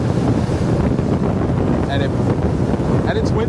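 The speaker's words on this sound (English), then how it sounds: "And it's windy." Steady wind roars across the microphone over the rush of water beneath a 22-foot catamaran planing at speed, with a couple of faint, brief higher sounds.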